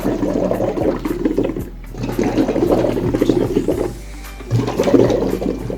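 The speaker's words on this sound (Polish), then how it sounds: "Dziewczyny teraz zaczną nam bulgotać i robić sztorm na wodzie." Girls blow through breathing exercises into containers of water, producing a steady, close bubbling and churning that rises and falls in bursts with short pauses for breath.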